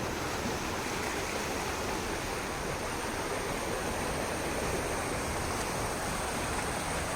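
Rushing floodwater on the flooded Thiruvalla–Chengannur road in Chengannur during rain, a steady broadband wash of water that stays even and continuous throughout, with no talk.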